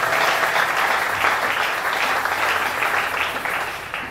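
A church congregation cheers and applauds for the king, loud sustained clapping with rhythmic swells of crowd noise for several seconds.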